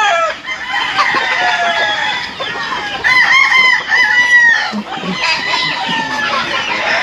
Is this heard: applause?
no